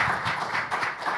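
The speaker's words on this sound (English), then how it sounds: "So please, a round of applause for the team at Whipley." Audience applause at a presentation on revenue recognition and tax reform: clapping that comes in uneven surges, fairly loud and close, with no talking.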